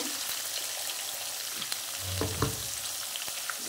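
Prawns fry in a pan with a dense, continuous hiss of hot oil, a few stirring knocks and scrapes clustering near the middle, close and steady without speech.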